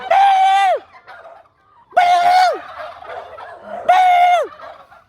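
Three loud, close turkey gobbles, each a rapid warbling burst spaced about two seconds apart, with quieter clucks in the gaps between.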